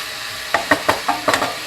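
Meat searing in oil in a pan for Spanish baked rice, with a steady sizzle broken by about six sharp knocks and scrapes of a utensil stirring against the pan.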